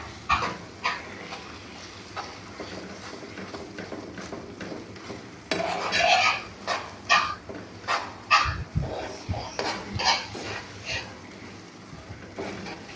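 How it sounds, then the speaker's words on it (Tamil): Sago halwa being stirred in a pan on the stove, a steady run of close scraping and stirring sounds with a faint sizzle, the strokes growing more pronounced partway through. "கைவிடாமல் மிக்ஸ் பண்ணிக்கிட்டே இருக்கணும்."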